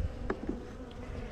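Bees buzzing close by inside an open beehive during an inspection, a short steady hum with a few louder passes near the ear.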